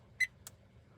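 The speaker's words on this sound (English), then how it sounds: "It beeped, but... It did beep." A Vantrue E1 Pro dashcam beeps while taking a photo: a short high electronic beep followed by a faint click, heard alone and close.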